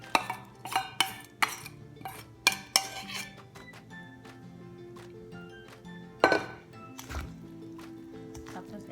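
A spoon or utensil stirs coconut milk into a cassava mixture in a bowl, with clinks and scrapes in irregular clusters and a quieter wet mixing sound between them.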